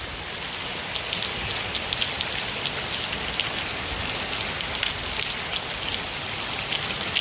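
Steady, heavy thunderstorm rain pours down in a continuous dense hiss, with drops pattering on a hard surface throughout and no voices, flooding across a yard.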